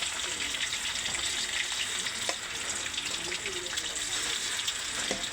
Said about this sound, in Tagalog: So sasalang na natin yung last portion ng ating chicken